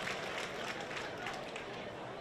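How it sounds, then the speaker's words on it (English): Spring training crowd in Philadelphia applauding Freddie Galvis, a broad wash of clapping and cheers holding steady, with a commentator's voice running over it. "Very nice ovation."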